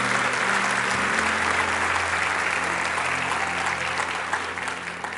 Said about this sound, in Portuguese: Você pode aplaudir Ele bem forte nessa noite?